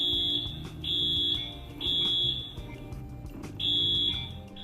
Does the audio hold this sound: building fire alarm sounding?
yes